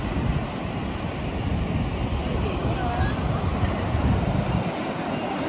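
Ocean surf at Marina Beach in Chennai, a steady rushing wash of waves mixed with strong wind buffeting the microphone, continuous and fairly loud.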